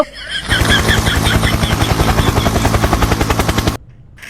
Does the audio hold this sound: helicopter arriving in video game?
yes